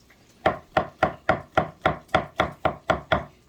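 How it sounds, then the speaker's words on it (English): A kitchen knife roughly chops mushrooms on a cutting board for Thanksgiving cooking, giving ten evenly spaced, sharp, close thunks at a quick, steady pace with no talking. "So I just take and kind of roughly chop them up a little bit."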